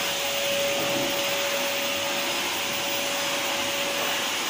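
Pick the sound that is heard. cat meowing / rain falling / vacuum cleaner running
vacuum cleaner running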